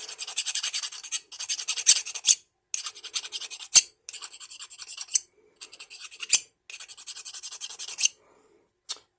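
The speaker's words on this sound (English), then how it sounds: "I can file that down until it's a little hard to see, until all of the tool marks from the grinder are gone" Hand file rasping over a metal musket tool to smooth away grinder marks, heard as repeated close, scratchy strokes in bursts of about a second with brief pauses and a few sharp clicks, no talking.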